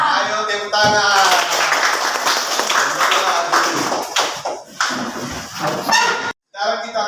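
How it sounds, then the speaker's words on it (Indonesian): Students clapping hands together in a classroom during an ice-breaking activity, a dense burst of rhythmic clapping mixed with voices and chanting, with a brief pause near the end before the clapping and voices resume. "Ayo tepuk tangan."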